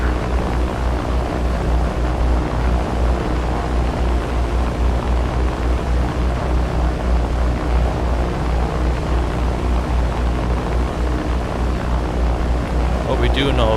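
Steady droning propeller engines of a B-17 bomber in a flight video game, a continuous dense hum filling the whole stretch without pause.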